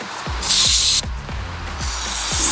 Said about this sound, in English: let's just spray everything off one more time